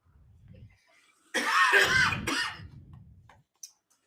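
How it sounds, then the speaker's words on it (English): A single harsh COVID cough rings out close by, followed by a short throat clearing, with quiet murmuring before and after. "The old COVID cough's getting me."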